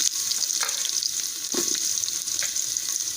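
Cumin seeds, carrots, peas and green chillies fry in a hot pan for a vegetarian Gobindobhog rice khichuri, giving a steady close sizzle with a few scraping stirs and no talk.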